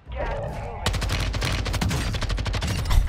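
Rapid gunfire from a Warzone weapon in single-fire mode, a fast dense string of loud close shots that continues without pause, with a brief bit of voice before the firing starts.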